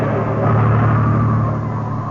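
A car driving fast as a sound effect in an old-time radio drama, a loud continuous engine rumble with a low steady drone, swelling slightly mid-stretch, with no voices.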